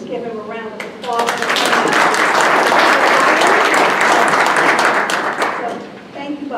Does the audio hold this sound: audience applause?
yes